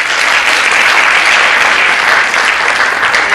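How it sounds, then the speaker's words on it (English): Loud, continuous applause from a gala dinner crowd at a black-tie awards event greets the honoree. It is a steady wash of many hands clapping with no speech over it. "So please, a round of applause for Dick Batchelor."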